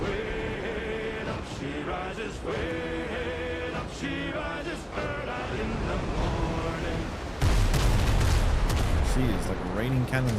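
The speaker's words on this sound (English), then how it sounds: "like raining cannons on me" Cannon fire in the pirate video game Windrose booms in a series of heavy, repeated blasts, mixed with in-game music and sounds of a naval battle, while people talk over it.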